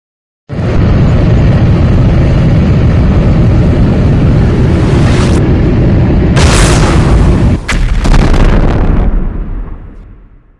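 Military jets blown up during an emergency alert broadcast scenario, heard as a massive, continuous explosive roar that rumbles for about ten seconds, with sharp blasts cracking through near the end before it fades out.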